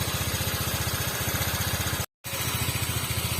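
A water-cooled motorcycle engine idles steadily close by, with an even, rapid low throb that holds throughout except for one brief dropout near the end.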